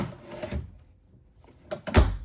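Two quick wooden thuds and slides, a drawer in a 2026 Forest River Sabre 37FLF RV moving open and shut, close by, with a short quiet gap between them.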